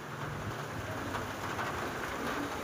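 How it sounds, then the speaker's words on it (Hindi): Heavy monsoon-style rain pours steadily outdoors in India, a dense, even hiss of falling drops with faint low rumbles underneath and no talking. "यहाँ पे बहुत सारी बारिश हो रही है"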